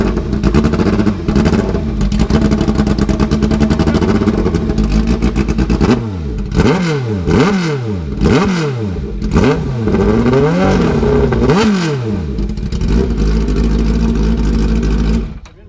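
A dragster motorcycle engine fires up and revs hard in a series of rising and falling blips, loud and close, ending in a sustained roar with no talk over it.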